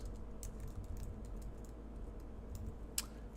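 Quiet keyboard typing, irregular clicks and taps spread across the clip, with one sharper keystroke near the end over a low hum.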